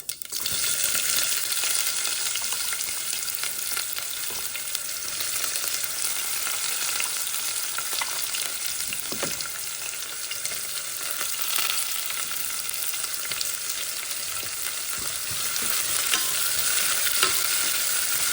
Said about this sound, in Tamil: இப்போ வெங்காயத்தை போடுவோம்